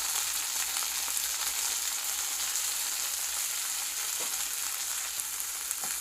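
Dried red chillies, a green chilli, mint and coriander frying in hot oil, a steady close sizzle throughout with a few faint scrapes and no voices.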